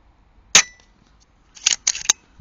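Air rifle shot fired at a target about 31 yards away in open, windy country, the rifle fitted with a OneLeaf NV400 night vision scope: one sharp crack, then a second burst of clattering impacts or action noise a second later.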